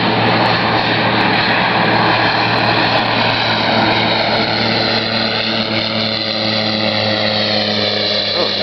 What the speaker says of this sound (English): Oh, it's an airplane,